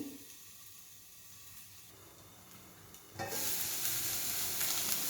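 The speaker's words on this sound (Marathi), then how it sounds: "त्याला आपण झाकून ठेवूया दोन ते तीन मिनिटासाठी जेणेकरून तो शिजला जाईल कोबी" Chopped cabbage cooks under a lid in a pan, giving a soft continuous sizzle and hiss that swells abruptly louder partway through.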